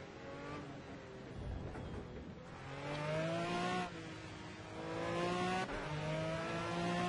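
A V12 race car engine in the racing game Project CARS revs and climbs through the gears, its tone rising in repeated sweeps with brief drops at each shift, loud and continuous.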